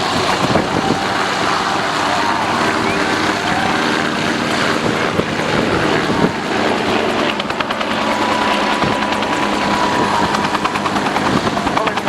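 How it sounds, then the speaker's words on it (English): Large transport helicopter at the 2013 Portrush Airshow, a loud, steady rotor thump and turbine roar held close for a long pass, with faint talk beneath. "Very manoeuvrable for a large transport helicopter."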